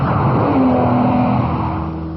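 A red Lamborghini Countach roars steadily at speed, a loud sustained engine drone with a faint rising whine, close by and uninterrupted.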